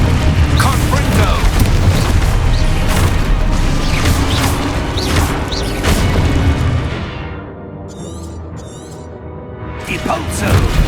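Confringo blasting spell explosions in Hogwarts Legacy: a dense, loud run of booming blasts and crashes over a rumbling bed, easing off briefly before another burst, with voices calling out under the din.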